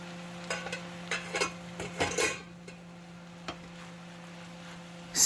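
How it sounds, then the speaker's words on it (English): Chicken empanada filling with raisins being stirred in a pan, a few soft scraping and clinking strokes scattered across the clip with a steady low hum underneath and a sharper clatter at the end. "Stir so that all the ingredients are incorporated."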